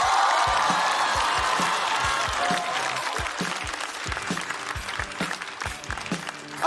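Audience applause at a Chinese stand-up comedy show, 喜剧之王单口季3, greeting a comedian from Xiamen. Loud, dense clapping fills the whole stretch and holds steady before easing slightly, with a burst at the end.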